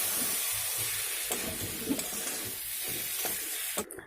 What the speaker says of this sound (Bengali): এবারে এই আলুটাকে ভালো করে মশলার সাথে কষিয়ে নেব